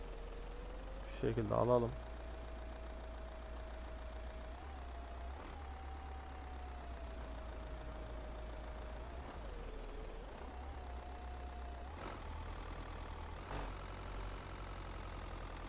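A Dacia Sandero Stepway engine in Euro Truck Simulator 2 cranks in a short burst, then settles into a steady, even idle hum that continues under someone talking.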